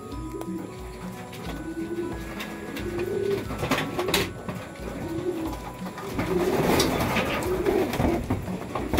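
Several pigeons in a loft coo in soft, repeated rolling calls close by, with rustling and shuffling around them and occasional faint background voices.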